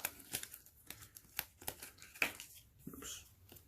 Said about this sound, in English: Now we're going to do the same thing here and shuffle up the little deck